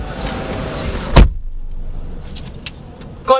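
A 2023 GAC GS8 SUV door shuts with a single solid thump, followed by quiet, then a second softer thud; close by, no talking.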